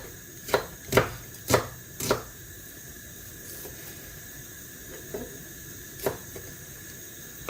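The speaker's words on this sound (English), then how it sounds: "I just started cutting my onions" Knife chopping onions on a cutting board for an onion tart: four quick, crisp strokes close together, then a pause and a few softer, scattered cuts, close and fairly quiet.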